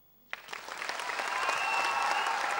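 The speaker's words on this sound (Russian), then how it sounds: "Аплодисменты Наташа Пермякова, Женя Бедин, Антон Немчинов" An audience applauds graduates at a school ceremony. Clapping starts abruptly after a brief silence and builds into dense, sustained applause from a large crowd.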